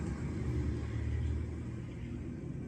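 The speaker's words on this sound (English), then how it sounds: "The car pulled over Mason Street, down Washington, and then swung over Powell and up the hill" Steady low rumble of a car motoring through San Francisco streets up a hill, a continuous engine drone heard alone with no voices.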